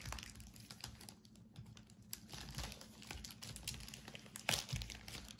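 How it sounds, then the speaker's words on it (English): Plastic wrap crinkling and rustling as it is gently peeled off 1983-84 Vachon hockey cards, a steady, faint stream of close crackles and small snaps with no talking. "All this plastic wrap, but I'm trying to be gentle with these cards."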